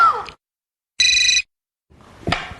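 A telephone rings in a Hindi comedy serial scene, one short bright electronic ring burst standing alone between quiet gaps, followed by faint rustling and background noise.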